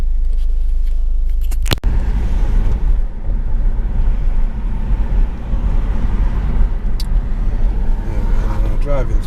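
A car drives through the streets of Leighton, Blackpool, at two in the morning. Steady low engine and road rumble carries throughout with wind buffeting the microphone, and there is a sharp knock near the two-second mark.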